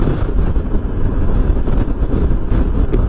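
Strong wind buffets the microphone on a moving motorcycle, a loud, continuous roar with gusty surges and low rumble throughout, no voices.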